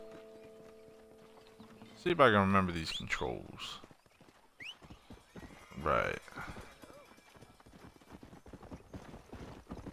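A war horse's hooves clip-clop in the Red Dead Redemption video game, a steady rhythmic plodding under a voice talking, with louder tonal game sounds bursting in midway.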